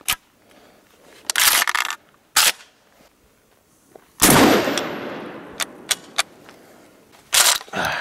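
A Kel-Tec KSG 12 gauge pump shotgun fires at targets outdoors, with one loud booming blast echoing away, plus sharp clacks of the pump action and shorter bangs before and after.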